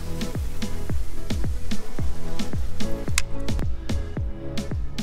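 Water drips and splashes onto a ceramic-coated car panel in a string of close, distinct plinks and squishy drops, about two or three per second over a faint wet hiss.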